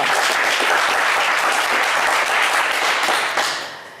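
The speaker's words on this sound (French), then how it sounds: "On vous applaudit très fort." A studio audience on a French television game show applauds a contestant with steady, dense clapping that holds loud for several seconds before tapering off at the end.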